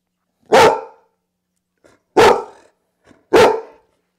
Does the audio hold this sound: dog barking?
yes